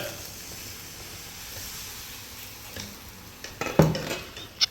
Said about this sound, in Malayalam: ഞങ്ങൾ തന്നെ ഓംലെറ്റ് അടിക്കുന്നു.